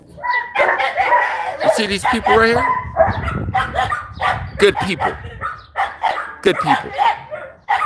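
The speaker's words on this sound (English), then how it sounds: "Kareem, that's my dog." A dog barks and yips in short, repeated bursts, close by and mixed in with someone talking over it.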